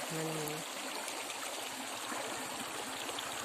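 The Vamanapuram river flowing past, a steady close rush and trickle of water heard alone.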